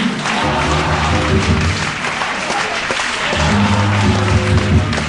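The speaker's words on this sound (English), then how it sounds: "Come on, clap your hands and say, Lord," A church congregation claps together in a steady, dense wash that runs the whole time, with low sustained instrumental tones beneath it, rising again toward the end.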